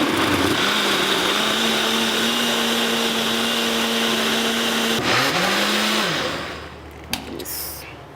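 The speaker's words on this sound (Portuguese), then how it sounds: "colocamos aqui no nosso processador ou no seu liquidificador todos os líquidos e apenas o açúcar que está aqui" A food processor whirs loudly and steadily, blending liquids and sugar for an apricot, orange and chocolate-chip cake batter, its motor pitch dipping briefly before winding down, followed by a few clatters.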